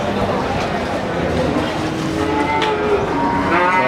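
An Ongole crossbred cow (sapi PO) lows in a long, steady moo at a cattle trading spot in Nganjuk, set against a dense, noisy background of crowd and livestock.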